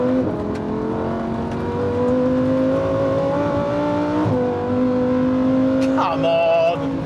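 Porsche 911 GT3 or Lamborghini Huracán EVO RWD sports car accelerating hard around a race track, a steady close engine drone rising through the gears with shifts and no talk.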